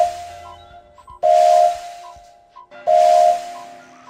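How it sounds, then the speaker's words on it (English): Three short toots of a cartoon steam engine's whistle in the Thomas & Friends game, each a bright steady tone with a breathy hiss, spaced about a second and a half apart, loud and clear. "I like my whistle. It sounds like this."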